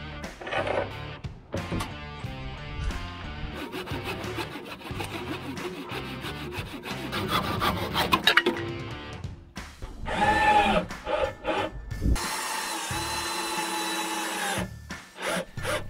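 Wooden boards made from offcuts being cut, a steady rhythmic back-and-forth sawing rasp that runs for several seconds, followed by shorter scraping and a high whining tool sound near the end, close and fairly loud with no talking.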